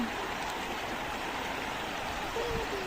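Continuous broadband rush of a strong river current, steady and enveloping, close by, with no clear voices.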